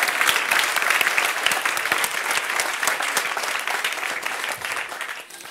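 Audience applause for a Science Slam presenter at a Swedish research event, a dense steady clapping from a full room that holds for several seconds and eases slightly toward the end.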